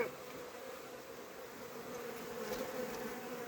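A steady, dense hum of many honey bees buzzing close by at an apiary in autumn, continuous and even throughout, with no voices.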